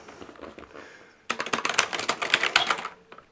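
Clattery keys of a 1988 Amstrad PPC 640 computer keyboard are struck in a quick, uneven flurry, close and fairly loud, after a quieter stretch of lighter tapping.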